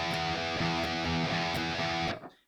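A distorted electric guitar plays a measure of straight eighth-note triplets with strict alternate picking. The chugging notes stay even and rhythmic at a moderate level and ring out briefly at the end.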